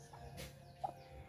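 A hen clucks in a rural Philippine farmyard after leaving her nest, giving a few soft, short clucks at a distance over a quiet background hum.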